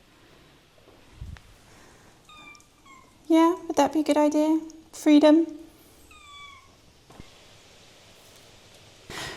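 Two cats meow in a French château home, a cluster of loud close miaows and higher chirps in the middle, with someone talking quietly before and between them.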